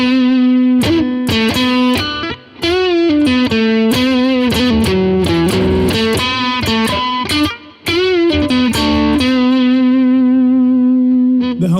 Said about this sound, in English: single coil, you can do everything. That's single coil right there.